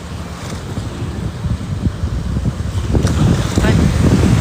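Wind buffets the microphone at sea off Boracay, shallow but choppy water with waves, a steady roaring rumble that builds slightly toward the end.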